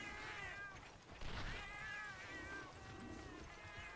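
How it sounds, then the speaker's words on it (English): Cats meowing in the Monster Hunter Freedom video game, several faint, drawn-out wavering meows overlapping against a quiet game background. "Oh god, but there's cats here."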